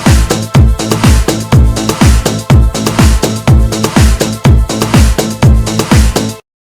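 An electronic loop track built from ambient bass, a drum top and an electronic kick plays loud and steady, with a punchy kick pulsing in a regular rhythm throughout before stopping abruptly.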